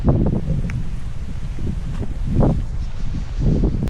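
Strong wind gusts roar across an outdoor vegetable garden of eggplant and bitter gourd, with steady broadband rushing that swells in a few louder surges, near and continuous.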